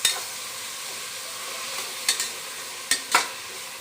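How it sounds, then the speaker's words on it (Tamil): Tomatoes sautéing in a pan for Tamil-style tomato rice, a soft steady sizzle under a few sharp scraping clicks of a spoon stirring against the pan, close and fairly quiet. "தக்காளியை நல்லா வதங்கி வர வரைக்கும் நல்லா கிண்டி விட்டுப்போம்."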